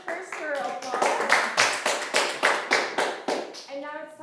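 Rhythmic clapping at a student founders' contest, sharp claps landing in a regular beat about three per second, with voices heard at the start and again as it ends.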